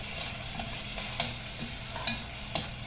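Prawns sautéing in a pan for a Malvani-style prawn curry, a continuous sizzle with several sharp spatula clicks and scrapes at a quick, uneven pace.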